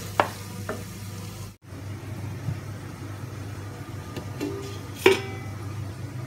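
Onions fry in a pan for tapioca biriyani, a quiet steady sizzle with a few light stirring clicks and a brief clatter near the end.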